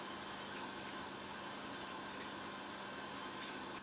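A steady, faint whir of a drill press drilling into a vise jaw, running continuously with a constant mechanical hum and no speech.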